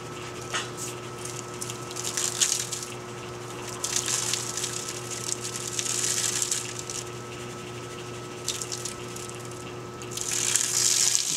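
Water sloshing in a gold pan as heavy minerals and zircon are panned, soft rhythmic swishes rising and falling in repeated waves, close and fairly quiet.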